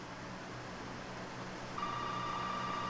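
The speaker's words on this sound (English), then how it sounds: "That phone's going off." A phone rings inside Resident Evil 7: a steady, faint electronic tone enters partway through over a low ambient game hum, with no talk.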